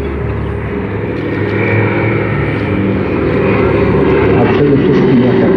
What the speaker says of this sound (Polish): DC-3 Dakota. Jeszcze raz przed Państwem.